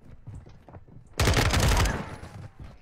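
Shotgun fire in a Call of Duty match, with a loud burst of blasts after a second of quieter background noise, then dying down, close.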